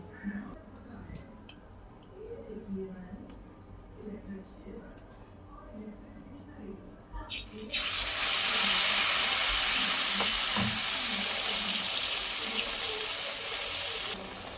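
Bread pakora pieces, battered bread slices, drop into hot oil: a voice talks over quiet kitchen background, then a loud, sustained frying hiss bursts in and continues to the end.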